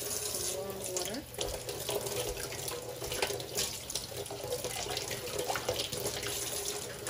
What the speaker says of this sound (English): Some warm water.